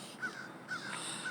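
A crow caws three times against a quiet outdoor background, each call short and moderately near, spaced evenly, with no talking.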